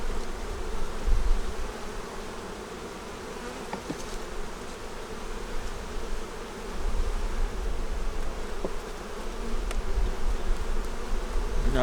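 Honey bees in a hive during cold-weather feeding and care, a dense steady buzzing hum close up, continuous throughout with faint occasional clicks and no talk.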